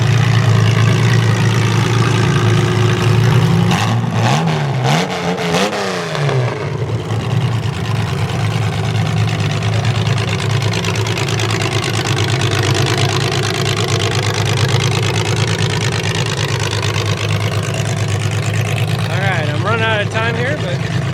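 Mini mod derby cars idle and rumble loudly at close range, a steady low engine drone with a brief burst of revving and clattering early on, while voices talk over the noise.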